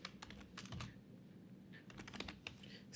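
Code being typed on a computer keyboard: a quiet, close stream of light key clicks in uneven bursts, with no voice over it.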